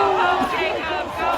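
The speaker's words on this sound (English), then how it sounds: "And listen to this crowd." A crowd jeers and boos the Minneapolis mayor at a public gathering, a dense, sustained roar of raised voices close around the listener for the whole moment.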